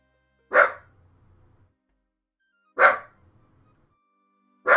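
Single sharp dog barks ring out one at a time, spaced a couple of seconds apart with quiet between them, close and clear over a faint low hum.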